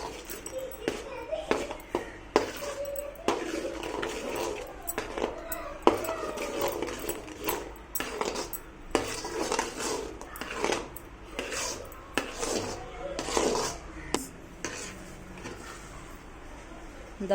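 A thick mango bar mixture, seasoned with salt and chilli, is stirred in a pan, with repeated scraping and clinking of a utensil against the metal, close and fairly loud, while voices murmur in the background.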